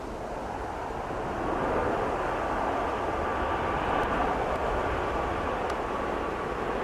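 A Ryanair airliner taxiing at Manchester Airport gives off a steady, fairly loud broadband engine rumble and hiss that swells slightly and holds even, with a few faint clicks and no voices.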